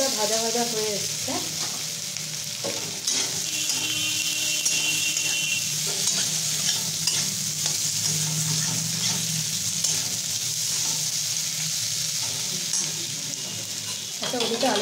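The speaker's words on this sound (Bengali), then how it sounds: "আলুটা ভাজা ভাজা হয়ে এসছে।" Pre-boiled potatoes sizzle steadily in a pan of hot oil for cumin potatoes, a continuous close hiss broken by occasional stirring clinks.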